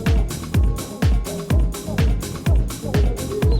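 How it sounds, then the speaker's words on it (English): Snare drum hits land on a steady backbeat about every half second within a dense song mix, punchy and prominent over bass and other instruments, with no talking. "So you can hear the snare is where it's at right now."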